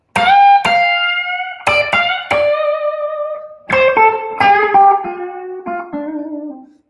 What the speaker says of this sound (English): I can snap up against the strings with these fingers and get a very bluesy.